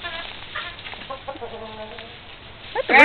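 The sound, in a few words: rooster and chickens clucking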